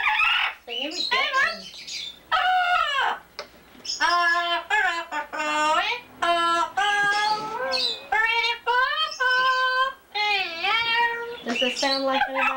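A pet bird squawks and whistles loudly in a long run of tonal, voice-like calls, close by and nearly continuous with short pauses.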